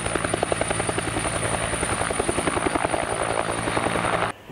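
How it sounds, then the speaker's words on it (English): Private helicopter with rapid, steady rotor thumping and a high turbine whine, loud and close, cutting off abruptly near the end. "This is a private helicopter"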